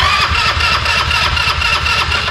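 An old motorcycle that has sat unused for three years and has no spark is cranked over and over without catching, a loud, steady mechanical churning that runs unbroken.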